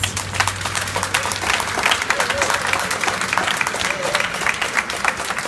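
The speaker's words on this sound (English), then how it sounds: "I want another round of applause for Peter" A crowd claps for an award winner at a ceremony, with thick, steady applause and sharp individual claps holding at full volume throughout, plus a faint murmur of voices underneath.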